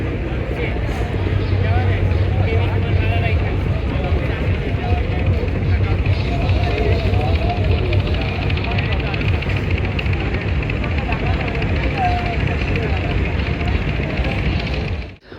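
The Kirtankhola 10 passenger launch runs its engine in reverse gear on a river, a loud, constant low drone with faint voices in the background, ending abruptly.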